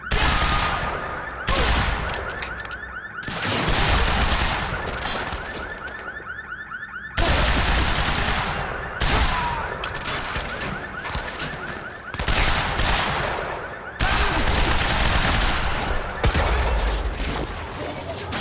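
Sustained automatic gunfire in the Quantum Break video game, rapid bursts repeating in waves over about eighteen seconds with a steady alarm-like tone underneath, loud and close, with brief shouted voices.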